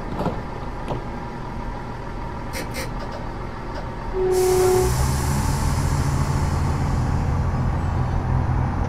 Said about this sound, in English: we're going to be departing Edinburgh Waverley Station in 3 seconds time